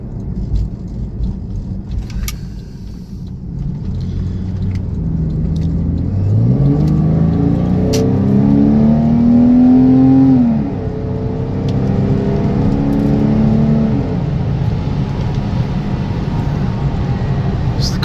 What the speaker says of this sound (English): Car gets up and goes, it runs strong, transmission shifts smooth